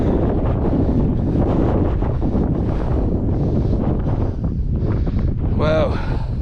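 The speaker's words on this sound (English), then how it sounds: "Now it's going to be really windy." Strong wind on an exposed hill by Captain Cook's Monument buffets the microphone in a steady loud roar, with a brief voice near the end.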